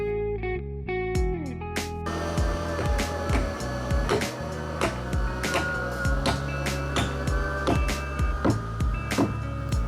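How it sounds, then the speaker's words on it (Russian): A power drill whines steadily while boring dowel holes through stacked timber beams on a one-storey log-beam house build, with repeated sharp knocks and clatter over the continuous motor tone. "Сейчас мы делаем технологические отверстия под нагеля, чтобы скрепить брус с предыдущим брусом нагелем."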